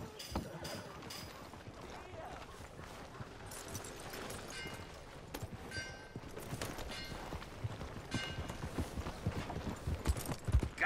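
A horse in Red Dead Redemption 2 clip-clops with a faint, irregular run of hoof knocks under quiet ambient game sound, growing slightly busier and louder toward the end.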